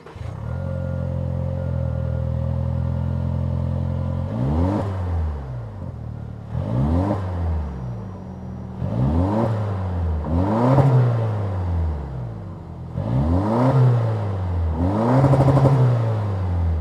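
A 2025 Toyota 4Runner TRD Sport Premium's 2.4-liter turbocharged four-cylinder engine idles steadily, then is revved repeatedly in short bursts, each rising and falling back to a smooth idle.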